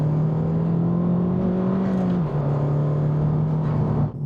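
Car with a new air filter accelerating hard, a steady engine drone rising slightly in pitch with a faint turbo whoosh layered over it, loud and continuous with a brief gear dip midway.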